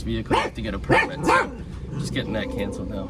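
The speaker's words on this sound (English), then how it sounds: "Sorry for the dogs barking there." Dogs bark and yip close by in Mexico, mixed in with a person talking over them.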